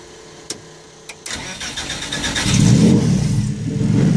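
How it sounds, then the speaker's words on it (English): A few sharp clicks, then a Porsche 917/10 Can-Am race car replica engine cranks via momentary starter and catches, rising into a loud, rough, steady roar that swells and stays close. "And then you hit the momentary starter."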